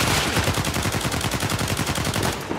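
Rapid automatic fire from an ACR rifle in Uncharted 4, a steady stream of loud, close shots hammering on for nearly three seconds with no pauses, then cutting off.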